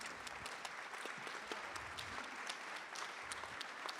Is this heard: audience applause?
yes